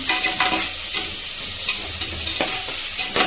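Onions being lightly fried and stirred in a pan for restaurant-style pulao: a continuous close sizzle with repeated scraping stirs at a steady pace, and no talking.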